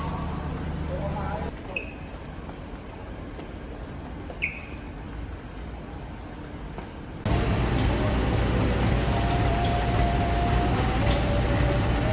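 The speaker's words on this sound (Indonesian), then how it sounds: "Ini suasana pagi di stasiun Kutoarjo ya." Morning ambience at Kutoarjo train station: a steady hum of background noise and distant murmur, then a louder rushing rumble like a train running nearby. No clear speech.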